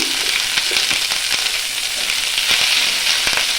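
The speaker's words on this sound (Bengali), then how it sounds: "পেঁয়াজটাকে হালকা করে একটু ভেজে নেব" Chopped onions fry in hot oil with ginger and garlic for chili paneer, a loud, close, steady sizzle with brief stir scrapes and crackles, no voices.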